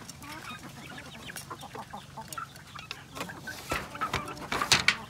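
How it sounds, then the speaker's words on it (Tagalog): Breeder chickens cluck busily while feeding at their trough, with a dense mix of soft clucks and sharp pecking taps nearby, growing louder toward the end. "Lakas ng dumuka ng pagkain ng breeders."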